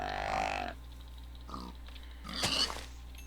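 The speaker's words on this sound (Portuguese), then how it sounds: "não é porco espinho. É um porco." Pig grunts from a Minecraft game with the Mo' Creatures mod, a few short grunting bursts with pauses between, fairly close over a steady low background hum.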